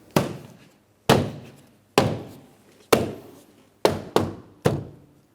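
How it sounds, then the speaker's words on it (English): Seven sharp, close thunks ring out at an uneven pace as a front interior door panel on a 2011-or-later Mitsubishi Outlander is tapped into place, each hit decaying quickly. "I'm going to tap it in all the way around the door panel."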